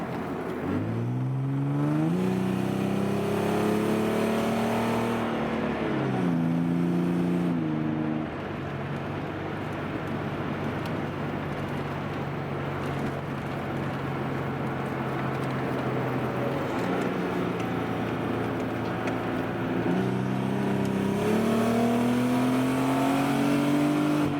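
Nissan Fairlady 300ZX twin turbo engine revving and pulling through gears while driving on a road, loud and close, with steady drone and rising pitch sweeps as it accelerates.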